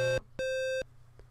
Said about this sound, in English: now we've got the beep set up to my capture card